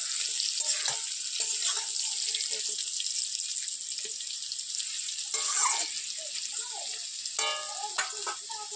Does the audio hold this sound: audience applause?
no